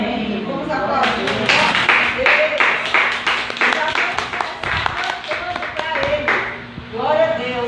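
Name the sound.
applause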